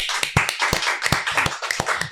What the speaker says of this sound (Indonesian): Boleh dong tepuk tangannya lagi.